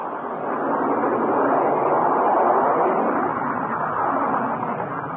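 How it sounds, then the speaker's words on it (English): A broad, steady roar of B-52 bomber jet engines swells and holds at moderate loudness, a dense rushing noise with no voices. "That was the roar of the B-52, backbone of the Strategic Air Command."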